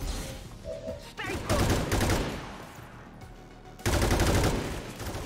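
Bursts of gunfire rattle through an XCOM 2 multiplayer battle, two loud clusters of rapid shots separated by a quieter stretch, with brief voices nearby.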